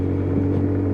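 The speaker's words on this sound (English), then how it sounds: "Idling again, sitting comfortably on tick over." A Lexmoto Titan motorcycle engine idles on tick over, a steady low humming rumble with even tone, close and continuous for a brief moment.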